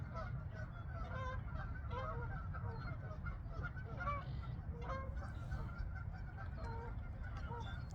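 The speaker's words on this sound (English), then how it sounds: "there's like a goose war going on" Two male geese fight over territory at a lake, their repeated honks overlapping in a continuous, fairly loud outdoor chorus with no talk.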